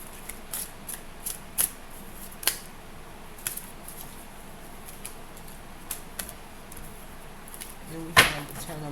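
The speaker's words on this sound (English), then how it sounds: "We're going to shuffle." Tarot cards from an Anne Stokes Gothic deck are shuffled by hand in short, sharp riffling bursts at irregular intervals, close and moderately loud, ending with a louder slap.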